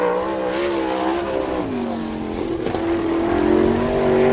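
Sprint car at full throttle on a time-trial lap at Attica Raceway Park, Ohio, a loud sustained engine howl with pitch sweeping down and then rising again, steady and close.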